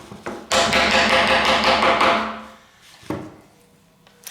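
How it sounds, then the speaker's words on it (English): A hammer lightly tapping a part of an 1865 Forster & Andrews pipe organ into position: a few sharp knocks followed by a long ringing resonance, then one more close tap. "I'm just going to lightly tap this in position."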